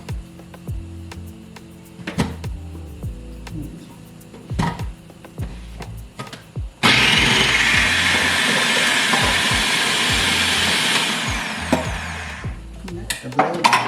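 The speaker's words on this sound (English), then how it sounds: "we're ready to start chopping these onions up. And ain't doing it by hand." An electric chopper chopping onions whirs loudly for several seconds after some clunks and knocks, its steady motor roar cutting off abruptly, followed by more handling thumps.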